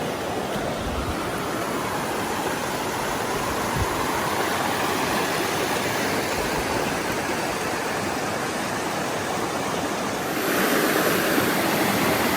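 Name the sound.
rushing water of a stream after heavy rain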